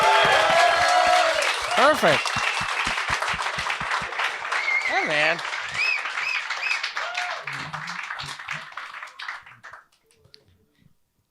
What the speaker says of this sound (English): please give a fucking huge round of applause